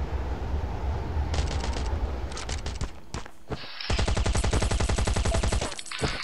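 In a battle royale video game, scattered rifle shots and short volleys crackle over a steady background, then a loud sustained automatic burst rattles for nearly two seconds before tailing off into a few last shots.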